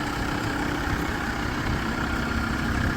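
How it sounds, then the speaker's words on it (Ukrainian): A used 3.5-tonne minibus at a commercial vehicle market idles with a steady, even low rumble, close and continuous throughout, with no talk over it. "Двигун заведений"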